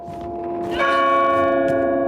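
Hammer strikes on church-style bells in the horror game Tormented Souls 2: a softer tone gives way to a loud struck bell at about 0.8 s, its bright ringing overtones sustaining to the end, alone with no talk.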